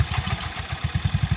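A Yamaha Mio 125 fi scooter engine, just fitted with a replacement ECU, runs in a quick low throbbing putter at close range, rhythmic and steady without any talk.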